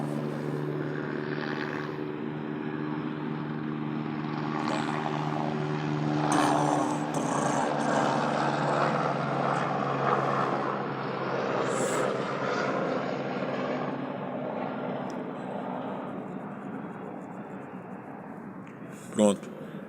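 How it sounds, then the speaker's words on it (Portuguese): A helicopter flies overhead, its low droning rotor and engine hum holding steady and fairly loud for about twenty seconds, while a voice talks at times beneath it. "deixa eu passar o helicóptero aqui"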